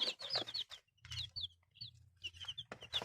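Close hybrid chickens cluck and squawk in short, rapid bursts, with brief quiet pauses between calls.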